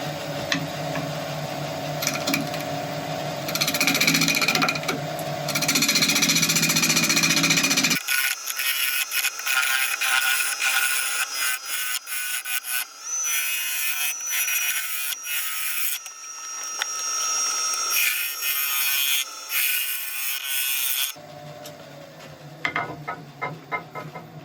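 A wood lathe spins an oak woodturning project at about 900 RPM, giving a steady, loud mechanical whir with scraping and rattling tool contact, broken by abrupt shifts in texture and a brief pause partway through.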